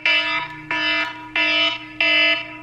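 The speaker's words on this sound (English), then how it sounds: "Yeah, cause there's my alarm clock." An alarm clock ringing with loud, close, harmonic electronic beeps in a steady rhythm, four long pulses separated by short gaps, with no one talking over it.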